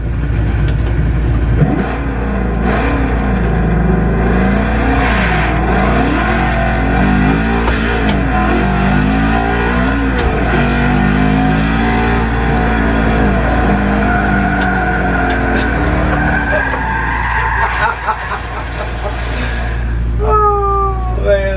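A car engine revs and accelerates in a driving video game played on a Logitech G29 steering wheel, loud and wavering in pitch as the virtual car speeds up and shifts, with no talking.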